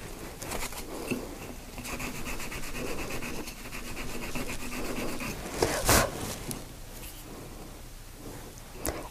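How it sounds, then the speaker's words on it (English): A Scotch-Brite pad scrubs the inside of a metal jewelry box ring, a quiet, close, continuous rubbing and scratching with rhythmic strokes and a sharper scrape near the end. "I'm just going to use my Scotch-Brite in here to clear this out"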